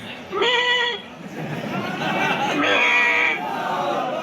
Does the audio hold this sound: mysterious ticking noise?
no